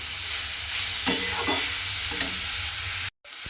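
Grass pea greens and green chillies fry in a hot pan with a steady, close sizzle, broken by a few soft stirring scrapes before cutting off abruptly near the end.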